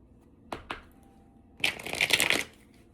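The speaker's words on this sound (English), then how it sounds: "Let me just shuffle this one real quick." A couple of quick riffles followed by a longer, crisp flutter of playing cards being shuffled up close.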